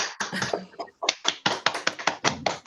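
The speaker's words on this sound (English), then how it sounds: "a quick round of applause if people want to take their microphones off mute" A small seminar audience gives a quick round of applause over their unmuted microphones, a few sharp, uneven claps close to the mic with brief gaps and slight voices.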